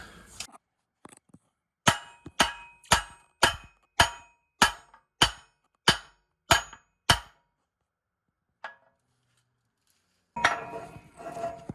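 A hammer taps a steel cross member into an engine cradle for a 671 Detroit Diesel, about ten sharp metallic knocks in an even rhythm, close and clear, followed by quiet and some faint handling noise.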